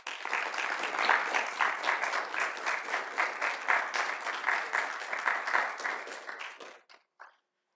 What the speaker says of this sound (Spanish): Recibamos al licenciado Luis de Gracia con un fuerte y caluroso aplauso.